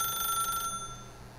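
Telephone ringing in The Stanley Parable video game, a steady electronic bell tone that sounds for about two thirds of a second, then fades, faint and alone with no talk.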